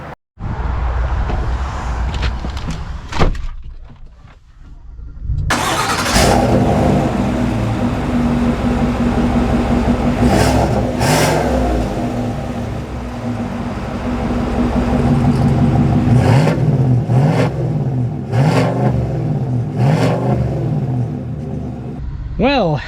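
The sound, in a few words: 2025 Chevy Silverado 1500 ZR2 V8 engine accelerating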